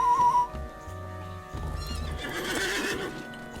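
A horse whinnies and then clip-clops along in the Lord of the Rings Online game world, steady hoofbeats with a neigh at the start, set against a faint game soundtrack.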